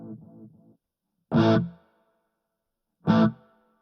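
Clean electric guitar through a Mooer SD30i intelligent amp with no effects, a short phrase of notes followed by two separate plucked chords, each ringing briefly and decaying into silence.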